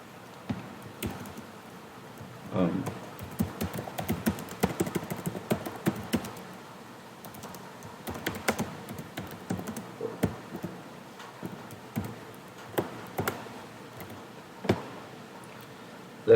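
Typing a Python list on a computer keyboard, irregular bursts of light key clicks and taps at close range, with pauses between runs of keystrokes.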